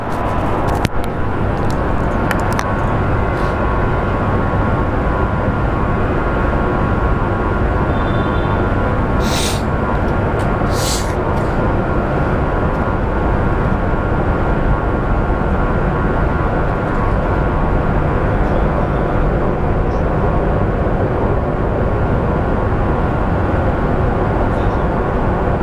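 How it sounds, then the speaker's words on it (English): An Airbus A320 or A319 airliner at Phoenix Sky Harbor International Airport makes a steady, continuous jet roar that holds at a constant loud level throughout, with no speech over it. "And that is a little Airbus A320 or A319."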